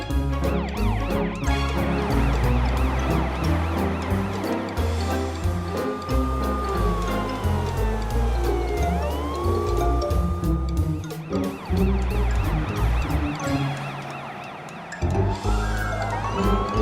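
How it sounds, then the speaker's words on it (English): Cartoon fire truck siren, a wailing emergency tone sweeping up and down over busy music that stays loud throughout. "Ah, an emergency! Now Morphle can see what a real fire truck can do."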